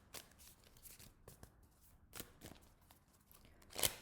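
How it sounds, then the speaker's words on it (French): A card being drawn from an oracle card deck, with soft papery shuffling and sliding rustles in several brief bursts and a sharper snap near the end, quiet and close. "Et on termine ce tirage avec une dernière carte."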